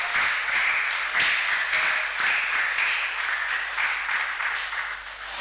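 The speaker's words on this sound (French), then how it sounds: "Acclamons pour la parole de Dieu." A church congregation applauds during a French-language service, a dense, steady wash of many hands clapping that fills the room and holds for several seconds before easing slightly, with no voices over it.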